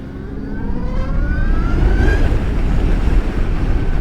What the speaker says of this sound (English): the whining of the motor is just awesome